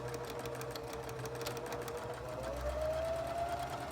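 A sewing machine stitches a pillowcase in a kids' sewing class, giving a steady, quiet, continuous mechanical whir that runs unbroken throughout.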